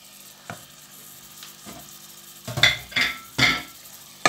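Beef hits hot Thai curry paste in a pan and sizzles, with several sharp scraping stirs and clanks of a spatula against the pan over a low frying hiss.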